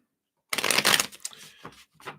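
A deck of tarot cards riffled close up in one loud burst of fluttering card flaps, followed by a few softer slides and taps as the deck settles.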